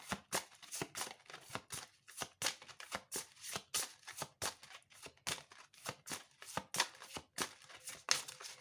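A deck of cards is shuffled and drawn for a fortune-telling card reading: quick, dense riffling flutters and soft slaps repeat steadily, close and fairly quiet, with no voice over them.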